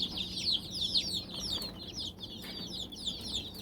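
Newly hatched chicks from an incubator cheep in a rapid, high-pitched chorus of overlapping peeps, moderately close and continuous.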